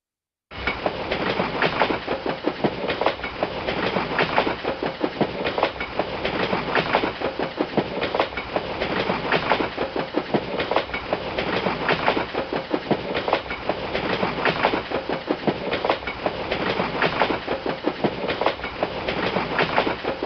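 A train rolls steadily along the tracks with a loud, continuous rhythmic clickety-clack of wheels over rail joints that keeps an even pace throughout, with no voices.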